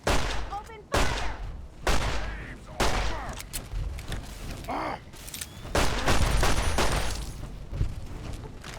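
Gunfire in a Fallout game, a string of sharp shots and bursts recurring roughly every second, fairly loud with short gaps between volleys.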